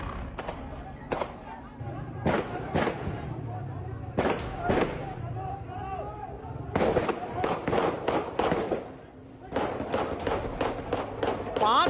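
Rapid gunfire at a protest in Pakistan-occupied Kashmir, more than ten sharp cracking shots in quick clusters with short gaps, loud and echoing, mixed with crowd noise.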